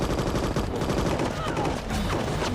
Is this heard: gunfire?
yes